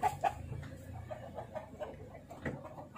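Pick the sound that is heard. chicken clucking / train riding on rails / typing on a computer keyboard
chicken clucking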